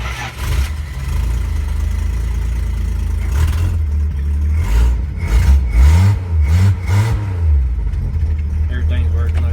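A freshly rebuilt 225 slant six cranks and then runs, a loud close engine with rhythmic surges and a few revs settling toward a steady idle, with talking over parts of it.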